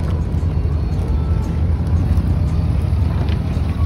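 A boat engine drones steadily at close range as a passenger ferry boat carries people across the water, a continuous low rumble with wind buffeting and no pauses.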